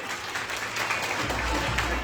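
An indoor audience claps in steady, sustained applause at a Delhi recognition event, a dense wash of hands lasting the whole moment.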